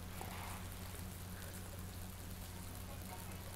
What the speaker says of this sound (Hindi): सुबह से ही बारिश हो रही है